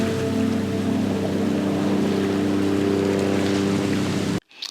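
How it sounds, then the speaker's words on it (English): Steady, loud rumbling drone of the Woolwich Ferry crossing the River Thames in London, a continuous engine hum with wind and water noise that cuts off abruptly near the end. "This is the Woolwich Ferry."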